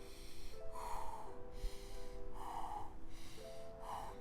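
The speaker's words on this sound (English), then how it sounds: "Breathe out." Sharp, forceful exhales through the nose during a core stability breathing drill, three distinct breathy bursts at a steady rhythm over a faint background hum with low tones.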